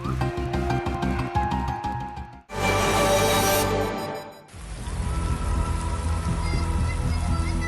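Heavy rain pours over Martapura in Banjar Regency, a loud, steady hiss of drops hitting surfaces that shifts in intensity across several cuts between scenes.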